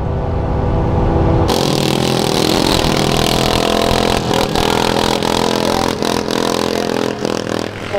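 A tracked tractor in a Thai redneck tractor race roars at close range, its engine loud and strained, then a track digs in and the machine crashes with broadband clattering and scraping over the continuing engine noise.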